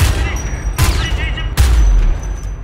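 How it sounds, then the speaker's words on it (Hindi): Gunfire in the video game Homefront: The Revolution, with two or three sharp, loud shots or short bursts cracking out a fraction of a second apart, each followed by a booming low tail over a steady rumbling background. "इसको हेडशॉट भी लगाना पड़ता है क्योंकि ज़्यादा गोलियों जो है खर्च ना करनी पड़े"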